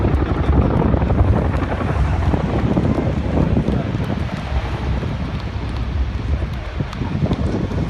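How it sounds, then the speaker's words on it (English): A Royal Air Force Chinook twin-rotor helicopter performs a display at the Bournemouth air show, its loud, steady rotor roar and thrum filling the air with gusty wind noise over the mic and no talk. "The Royal Air Force Chinook display team."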